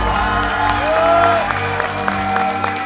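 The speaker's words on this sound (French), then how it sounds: "On peut les applaudir si vous plaît." At a bodybuilding competition show, the crowd applauds the athletes onstage with scattered claps and a faint cheer, partly masked by loud, sustained tonal music.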